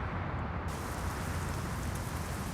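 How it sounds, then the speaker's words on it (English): Light rain patters steadily on the roof of a truck cab in Euro Truck Simulator 2, a dense continuous hiss with no talk. "This is the sounds here of the rain. And the little pitter-patter in the cab."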